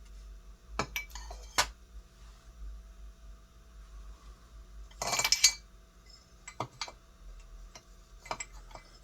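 Glass pieces set down over LED flicker-flame bulbs give a few sharp clinks and a brief louder rattle of glass against glass, spaced apart over a low steady hum.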